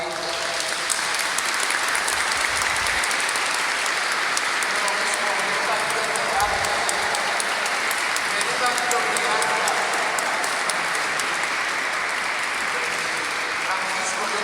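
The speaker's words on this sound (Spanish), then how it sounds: "Un fuerte aplauso para ellos." Sustained, loud audience applause fills a Catholic church during a youth confirmation and first sacraments service, dense even clapping from a large congregation lasting about fifteen seconds with a faint murmur of voices beneath.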